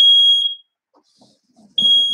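A loud, piercing electronic alarm tone sounds steadily, cuts out for about a second of near silence with faint rustling, then blares again.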